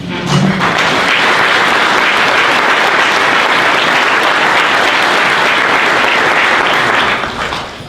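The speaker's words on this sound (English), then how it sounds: "give you a round of applause" Sustained audience applause at an EBSCO gathering honoring a host or guest, dense steady clapping filling the whole stretch at even loudness before tapering slightly at the end.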